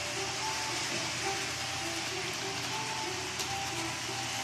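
An HO scale GO Transit GP40-2 model locomotive pulling six cars runs along a home layout, giving a steady, even rolling rumble and faint clicking of wheels on track throughout, with no voices.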